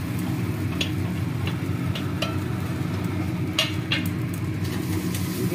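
Potatoes and peas frying in a pan, stirred with a few light, scattered scrapes over a steady, close sizzle; no voices.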